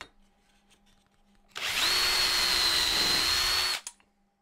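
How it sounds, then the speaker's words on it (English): A power drill bores holes in wooden shelf blocks for a TV stand, fitted with a drill guide; after a quiet start, a steady, loud, high whine runs for about two seconds and then cuts off. "now I'm gonna get the holes drilled in the first one using a drill guide"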